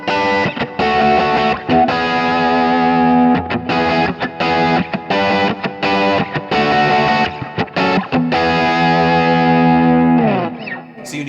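Distorted electric guitar chords through a Kemper amp profile ring out loud and saturated, played in short rhythmic bursts with brief gaps, ending on a sustained chord.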